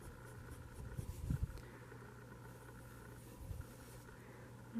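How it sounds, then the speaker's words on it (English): Lamy fountain pen writing on paper, heard as faint, close scratchy strokes and soft taps in short bursts against a quiet background hum. "It writes so nicely. I love the sound of it."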